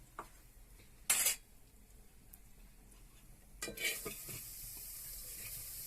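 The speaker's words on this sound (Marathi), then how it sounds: "कांदा तळून घेणार आहोत आधी" Onion sizzles in a hot pot, a steady hiss growing louder after a couple of sharp clanks of a utensil against metal.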